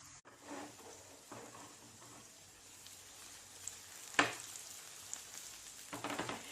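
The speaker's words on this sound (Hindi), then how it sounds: "इन्हें धीरे से टर्न करते रहिए और फ्राई करते रहिए" Chicken seekh kebabs fry on a tawa over a low flame with a steady, quiet sizzle and occasional soft scrapes as they are turned.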